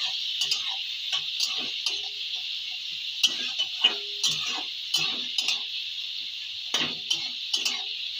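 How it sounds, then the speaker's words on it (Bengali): Chopped onions are stirred in a pan of hot oil: a continuous sizzle carries irregular scraping ticks of the spatula against the metal, close and steady, with no one speaking. "এবার একবার নেড়ে চেড়ে দেবো"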